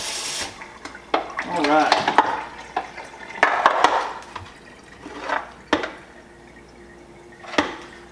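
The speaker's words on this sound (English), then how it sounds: "Now these tuna fillets are nice and rinsed off." Tuna fillets being rinsed under running water for home canning, with faint trickling and dripping that rises and falls in short bursts, sharp clatters of handling along the way, and brief speech in the clip.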